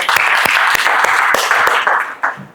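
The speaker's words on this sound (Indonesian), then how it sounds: "Berikan tepuk tangan untuk." Students in a high school physics class applaud a presenting group, a dense burst of clapping with sharp individual claps standing out, tapering off toward the end.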